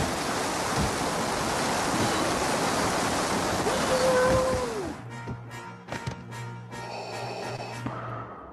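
Loud rushing water in the video game LEGO Star Wars, on a Kashyyyk level, roars continuously for several seconds, then cuts off abruptly, leaving scattered game sound effects and a low hum.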